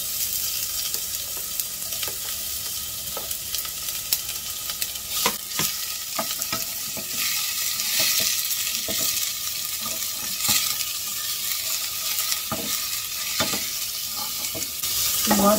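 Ginger and onion sauté in a hot pan with a steady, bright sizzle, broken by frequent stirring scrapes and soft clinks of a utensil against the pan throughout.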